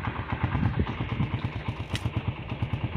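A motorcycle engine runs close by with a quick, even chugging pulse and a rattly low throb, steady throughout; no one speaks over it.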